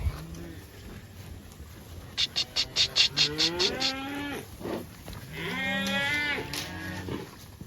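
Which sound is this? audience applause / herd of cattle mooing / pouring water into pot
herd of cattle mooing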